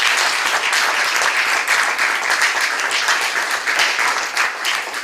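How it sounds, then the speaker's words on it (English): Loud, dense applause from an audience after a performance by a cultural troupe from Nigeria, with a steady stream of many hands clapping close by that holds evenly throughout. "More round of applause for them, please."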